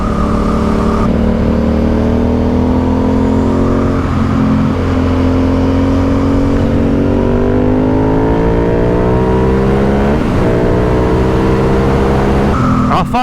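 An Aprilia Dorsoduro 750 motorcycle being ridden, its engine loud and close, droning steadily and shifting pitch through gear changes and throttle rises without pause.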